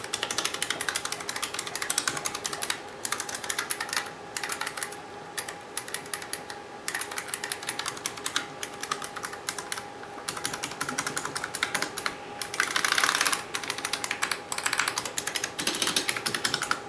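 Typing on a restored 1989 IBM Model M keyboard, a steady stream of clattering, buckling-spring keystrokes heard up close over several seconds with a constant background hum, no talking.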